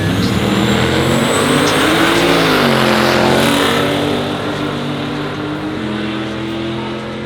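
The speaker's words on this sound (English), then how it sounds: "the Crown Victoria belonging to Bob Malkowski. 1989 model GT" A 1989 Ford Crown Victoria GT race car roars loudly and close, its engine note rising as it accelerates hard down the strip, then easing slightly as it pulls away, with no talking over it.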